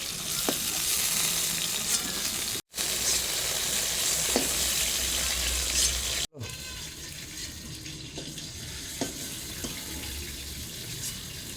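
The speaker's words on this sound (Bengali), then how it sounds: "মাছটা তো হালকা ভেজে নিয়েছি, এবার তুলে দেবো।" Hilsa fish pieces fry in hot oil with a steady, bright sizzle and occasional light clinks, with two brief cuts in the sound.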